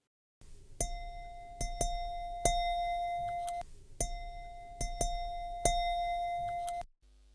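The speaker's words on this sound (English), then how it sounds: "And then we have the actual meditation singing bowls." Resonant meditation singing bowls struck several times in two similar sequences, each strike ringing with long, layered overtones that sustain and overlap before fading.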